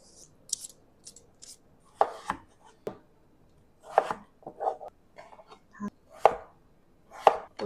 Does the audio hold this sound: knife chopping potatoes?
yes